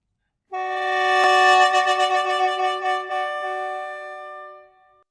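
A single low, reedy free-reed chord from a small bamboo mouth organ, pitched down, swells and holds for a few seconds with a wavering tremolo, then fades out, heard alone.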